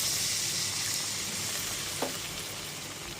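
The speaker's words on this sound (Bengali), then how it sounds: "আমি এখানে ঢাকা চাপা দিয়ে মশলাটাকে কষিয়ে নিচ্ছি।" Spice paste of turmeric and Kashmiri chili powder with a splash of water frying in a covered pan over low to medium flame for a Pabda fish curry, giving a steady close hiss with one brief faint clink partway through.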